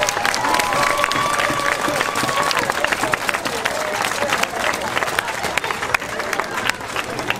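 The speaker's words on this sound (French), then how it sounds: "C'est pourquoi je voudrais que l'on applaudisse la meneuse de bélier, Floriane, s'il vous plaît." A large outdoor crowd applauds steadily at a medieval reenactment show at the fortress of Châtel-sur-Moselle, with dense, continuous clapping mixed with crowd noise throughout.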